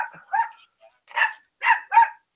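Dogs bark in short agitated bursts, about five barks with pauses between them, loud and close. They are reacting to a small handheld device.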